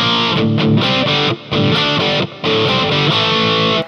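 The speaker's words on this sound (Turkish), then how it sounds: "Phaser'ı kapattım, bakalım ritim tonumuz nasıl?" An electric guitar plays rhythm chords through a Joyo DC-15S rechargeable amp with the phaser off, in a loud, distorted tone with chugging strums broken by two brief pauses, with no talk.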